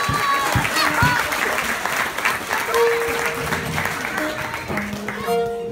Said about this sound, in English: give Gino LaParry a round of applause